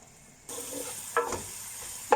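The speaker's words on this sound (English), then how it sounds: "next we place the garlic and oil and cook together" Garlic hits hot oil in a pan and starts a quiet, steady sizzle that begins abruptly, with a couple of brief stirring clinks, and no one speaks.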